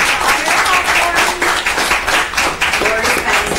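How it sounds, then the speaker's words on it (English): A round of applause at a public school board meeting, steady clapping from a small crowd for a few seconds with faint voices mixed in. "if I could just give her a round of applause"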